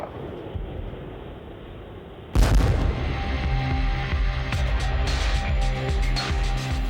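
A muffled stretch gives way to a sudden heavy boom from anti-tank missile fire, then sustained loud rumbling and crackling explosions continue close and dense to the end.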